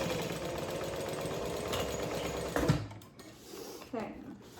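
A sewing machine stitches a backpack seam in a rapid continuous mechanical whir, then stops abruptly, leaving a few soft handling clicks and faint rustles.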